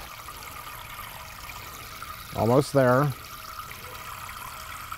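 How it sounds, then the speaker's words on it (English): Clean, room-temperature water trickles steadily into a flower vase, filling it to near the top. The pouring is faint and continuous, and a person speaks briefly partway through. "I'm filling it up about two fingers from the top."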